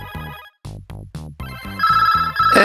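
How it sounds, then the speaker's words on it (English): A telephone rings in repeated electronic trills with short gaps, loud and close, mixed with music on a Halloween-themed album, with no talking over it. "The telephone appears to be ringing, Hal Weeny."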